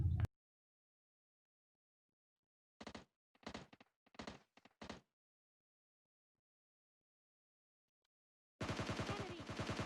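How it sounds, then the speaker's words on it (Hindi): Gunfire in a battle-royale shooter video game: a few scattered bursts of shots, then a long quiet gap, and finally a loud, dense rattle of rapid fire toward the end. "सामने से भैया कुछ गोलियाँ चलने की आवाज़ आती हैं"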